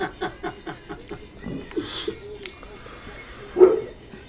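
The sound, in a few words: dog barking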